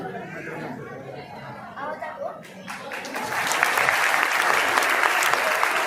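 Clapping from a crowd at an August 15 gathering begins partway through and grows into steady, loud applause, following a stretch of overlapping talk and murmuring voices.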